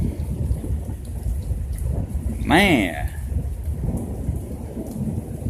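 A thunderstorm over the Eunice, Louisiana area during tornado weather, with steady heavy rain and rumbling thunder throughout, someone briefly speaking over it.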